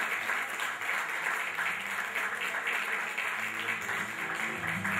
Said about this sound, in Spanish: Fuerte el aplauso para Robbie